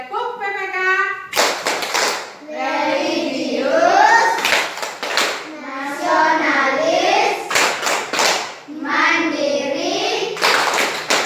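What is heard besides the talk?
rhythmic hand clapping, Tepuk PPK clapping chant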